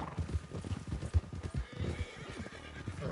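Horses in the video game Red Dead Online clip-clop with rapid, uneven hoofbeats and give a neigh partway through. The sound is close and moderately loud and carries on without a break, with no speech.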